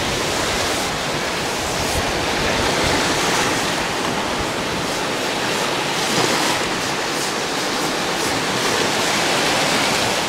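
Sea waves washing onto a crowded public beach at Dzhemete, a steady loud broadband surf wash filling the whole stretch with continuous rolling noise and no voices.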